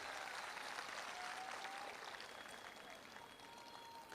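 At a direct-selling event, an audience applauds the women present with a continuous, fairly faint wash of clapping that sounds distant and is steady throughout.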